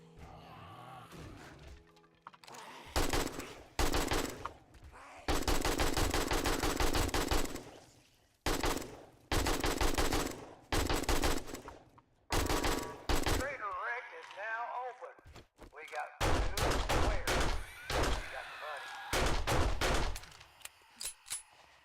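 Rapid bursts of automatic gunfire from the survival game 7 Days to Die, loud, close and repeated in several long volleys with brief pauses between them, no talking.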